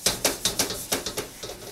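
Paper towel wiping a thin coat of grapeseed oil over a wok with a wooden handle, a close, quiet series of about nine rhythmic scraping and rubbing strokes.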